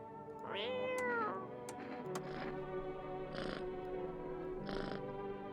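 A cat in the video game No, I'm Not a Human gives a few drawn-out meows with faint purring between them, soft and close, with no talking over it.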